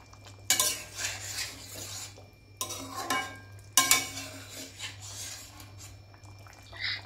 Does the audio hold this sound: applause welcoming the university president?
no